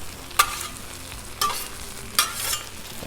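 Thanksgiving leftovers frying on a hot Blackstone griddle, a steady close sizzle broken by three scraping stirs of a spatula.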